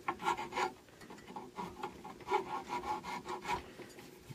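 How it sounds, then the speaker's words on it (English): Fine sandpaper rubbed by hand over carved wood on a rocking horse, steady back-and-forth rasping strokes in an even rhythm, close and clear with no talking. "Real fine sandpaper."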